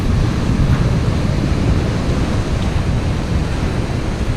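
Choppy sea and strong wind on the Eastbourne shore during a rough day of shore fishing: a dense, continuous rush of surf and wind buffeting close to the microphone, with no voices.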